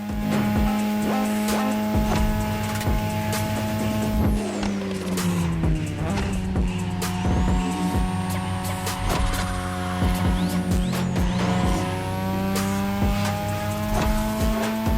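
A 2002 third-generation Mazda RX-7 with a rotary engine races in The Crew Motorfest, its high engine drone loud and continuous, rising and shifting in pitch through gear changes, with tire squeal mixed in.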